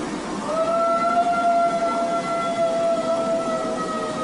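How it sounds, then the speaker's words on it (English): A long, wavering howl from an old dog holds steady over a constant hiss of background noise, with a second fainter tone layered above it. "so I'm wondering if this was just a really old dog trying to howl."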